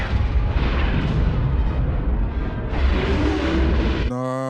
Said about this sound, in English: That looked like a practical explosion.